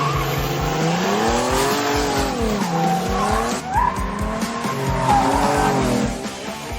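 A modified De Tomaso Pantera spinning donuts, its tires skidding and squealing continuously with wavering pitch over a loud revving engine, close and sustained throughout.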